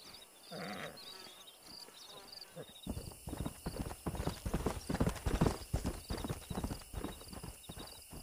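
Horse hooves clip-clop steadily and close in the video game Red Dead Redemption, starting after a quieter opening with insect-like chirps and growing into a dense rhythmic trot, with speech in the background.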